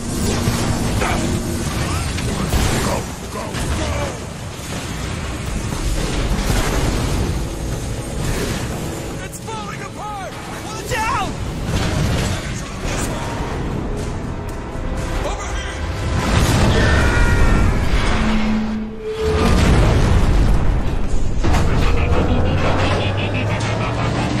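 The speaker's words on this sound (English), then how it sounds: "The core's about to detonate!" A spaceship's failing reactor core detonates in a sci-fi battle scene, a loud sustained roar of crashing, rumbling blasts and debris with dense layered effects, mixed with talking voices throughout.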